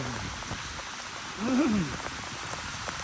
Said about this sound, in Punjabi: ਤਕਰੀਬਨ 7-8 ਮਿੰਟ ਹੋ ਚੁੱਕੇ ਆ ਮੀਂਹ ਪੈਂਦੇ ਨੂੰ